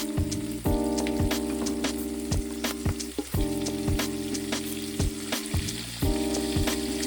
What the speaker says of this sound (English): Now let's fry our shrimp. Make sure not to overcrowd the pan.